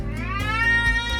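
A house cat meows loudly and close by, one drawn-out rising and falling cry as it wants to be let outside.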